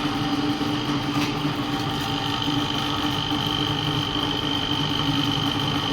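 A small petrol grass cutter (brush cutter) engine, the DW Mini model, runs steadily at close range with a continuous high-pitched buzzing drone, without talk.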